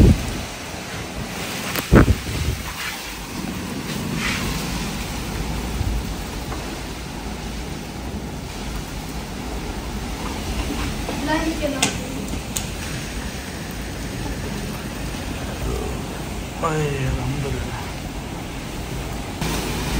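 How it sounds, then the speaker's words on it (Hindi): A constant roar of heavy rain and gusting storm wind buffets the microphone, with occasional thumps and faint voices in the background, during a storm with lightning. "काफ़ी तेज़ बारिश आ रही है और आंधी भी बहुत तेज़ है"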